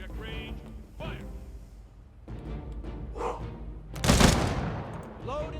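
Troops fire a volley of guns in the strategy game Humankind, a single loud crackling burst standing out above steady background ambience, with voices calling out around it.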